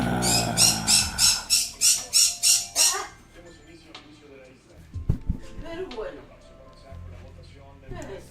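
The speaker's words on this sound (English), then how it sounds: "this bird. This bird right now." A jungle bird gives a loud, rapid series of about eight rhythmic squawking calls close by. A person then talks excitedly over quieter background sounds.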